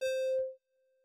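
A distorted, compressed synth note from a Vital patch in a color bass production, one bright buzzy sustained tone with a brief pulse partway through, ending after about half a second and followed by a faint lingering tail.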